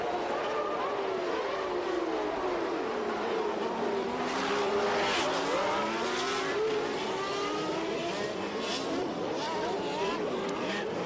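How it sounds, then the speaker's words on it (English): Formula 1 cars from the 1989 season racing, including a March and a Williams, their engines a steady high-pitched whine with rising and falling pitch sweeps, moderately distant, under commentary. "watch for Mauricio Gugelmin's March missing its braking point and launching itself over Boutsen's Williams"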